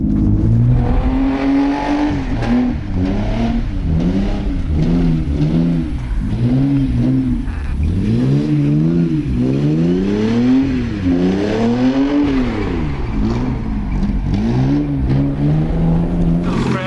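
Nissan 300ZX Z32, an old high-mileage car, revs hard under repeated throttle blips, the engine note rising and falling in a steady wavering rhythm, loud and close throughout.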